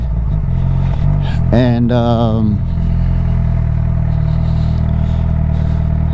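A Suzuki GSX-R750 motorcycle engine hums steadily while riding around town, with a rising rev sweep early on and a brief word spoken over it.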